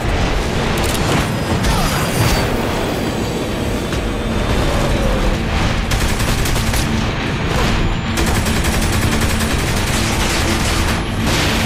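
Gunshots in the video game Saints Row The Third, a loud, continuous barrage of shots and booming impacts mixed with rumbling action noise, close and unbroken throughout.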